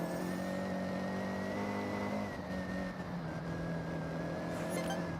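A car engine bogs down in the Forza Horizon 6 racing game, its steady droning hum dipping and labouring, then holding a flat tone, close and continuous with no talk.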